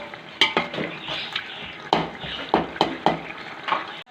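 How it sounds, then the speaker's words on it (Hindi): A spoon stirs biryani masala through pulao frying in a pot, with repeated scraping strokes and clanks against the metal over a low sizzle, close and without talk. "एक पैकेट हमने बिरयानी मसाले का ऐड करना है। इसको अच्छे से हम मिक्स कर लेंगे।"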